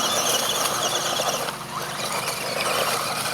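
An ECX Ruckus 1:18 RC truck doing donuts, its small electric drivetrain giving a continuous high whine with wavering squeal and tire scrub, loud and close, dipping briefly midway and rising again.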